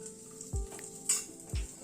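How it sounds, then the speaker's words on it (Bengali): Raisins lightly frying in ghee in a kadai, a soft steady sizzle with a few brief stirring scrapes and low thumps, close and fairly quiet, with no talk. "কিশমিশ দিয়ে কিন্তু খুব হালকা করে ভেজে নিতে হবে"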